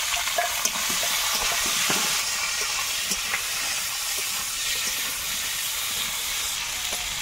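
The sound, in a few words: frying onion, chili, tomato and potato in oil with panch phoron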